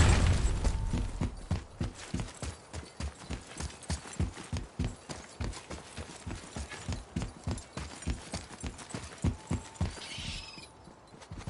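A horse's hooves clip-clop at a steady walking rhythm in the God of War game, a long run of evenly spaced, close, thudding beats that fades briefly near the end.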